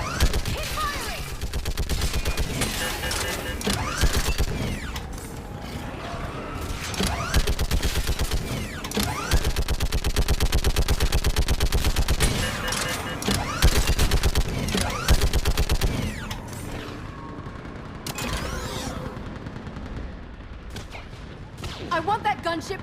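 Gunfire in Mass Effect Legendary Edition, dense rattling bursts and shots mixed with mechanical clanks and creaks throughout a battle scene, loud and continuous, with shouted voices over the din.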